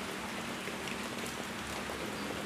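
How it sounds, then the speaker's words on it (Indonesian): Steady rain falls at a work site in Kutasari, Purbalingga, near dusk, a dense continuous hiss of drops on surfaces with no voices. "Di tempat kami kerja untuk saat ini hujan teman-teman."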